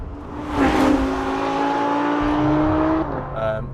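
A turbocharged Ferrari 488 GTB engine revs loudly nearby, with a rising whine and a muffled exhaust note, then settles as it passes.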